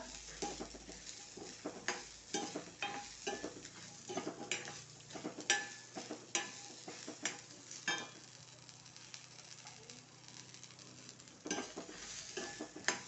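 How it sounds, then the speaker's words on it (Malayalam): Spices and small onions being stirred in a hot pan: a spoon scrapes and taps in uneven strokes over a soft, steady sizzle, close by with no voices. "നന്നായി വറുക്കുക"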